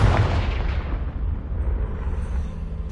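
In Hogwarts Legacy, a Confringo spell detonates with a loud booming blast up front that rolls off into a fading rumble.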